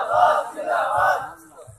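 A crowd at a Bangla waz religious gathering roars a slogan back in unison, a loud, sustained collective shout lasting under two seconds.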